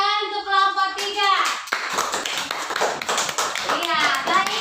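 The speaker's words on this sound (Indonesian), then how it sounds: "tepuk tangan untuk kelompok 3" Classroom children clapping for a group of classmates, a dense burst of applause mixed with children's voices and an adult speaking over it.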